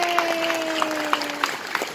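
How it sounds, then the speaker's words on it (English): An audience at a young author award event applauds with scattered, irregular claps, moderately loud, while a sustained tone and a faint cheer run beneath. "Give yourselves a round of applause."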